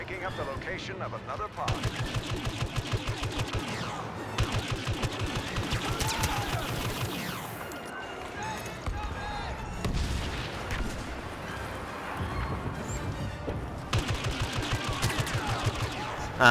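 Blaster gunfire in a Star Wars Battlefront beta multiplayer match, rapid bursts and volleys crackling almost continuously over a dense game soundscape, with a voice talking throughout.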